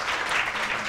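A studio audience at a Ramzan television transmission claps steadily through a short burst of dense applause, with no voices.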